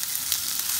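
Onions and potatoes sizzle steadily in a frying pan, a soft continuous hiss with no clear stirring strokes, heard alone.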